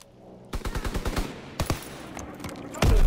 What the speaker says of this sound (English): We're just shooting.